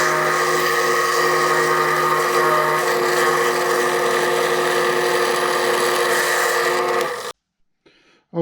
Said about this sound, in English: So now these are not lead holes that I'm drilling. These are guide holes